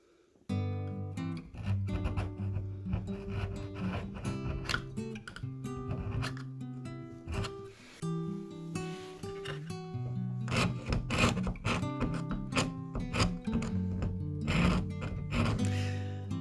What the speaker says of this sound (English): I'm making the scribe marks at least deep enough so that if this is repainted, I'll still be able to see where they are.